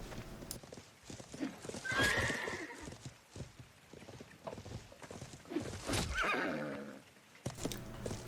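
A horse in the game Life is Feudal gallops with rapid clip-clop hoofbeats and lets out loud whinnying neighs, close and prominent over a busy battle background.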